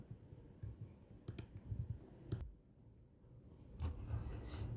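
Scattered key clicks from a keyboard as a TP-Link router admin password is typed, irregular soft taps spread over a few seconds against quiet room noise.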